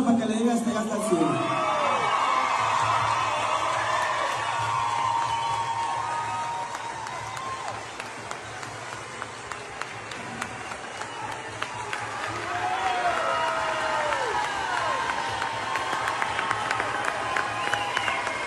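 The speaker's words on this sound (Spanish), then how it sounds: "en memoria de mi hija María Fernanda, que le demos un gran aplauso para que le diga este hasta el cielo" A concert audience applauds, cheers and whoops steadily throughout, a loud continuous crowd roar with scattered shouts.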